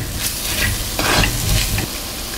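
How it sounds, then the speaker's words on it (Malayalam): Spice powders sautéing in a hot clay pot for coconut milk chicken curry, a steady sizzle with scraping stir strokes, louder in the middle and close by, no voices. "പച്ചമണം മാറുന്നിടം വരുന്ന വഴറ്റി കൊടുക്കാം"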